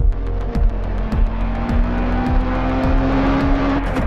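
A Kia Stinger GT's engine revs and pulls hard while driving, with repeated rising and falling gear surges under steady road noise, loud and close, no voices.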